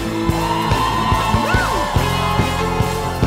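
A church congregation at a Christmas worship service shouts and cheers for joy, a dense wall of voices with rhythmic accents from music or clapping, loud and close, carrying steadily throughout.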